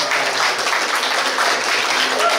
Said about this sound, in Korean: 여러분 입장 박수로 같이 고맙겠습니다